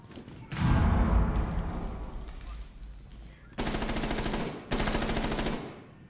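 Gunfire in the video game Rainbow Six Siege: a loud close burst opens the clip, followed by two sustained rapid-fire automatic bursts with a gap between them.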